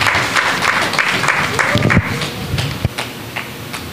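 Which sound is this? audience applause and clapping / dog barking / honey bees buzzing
audience applause and clapping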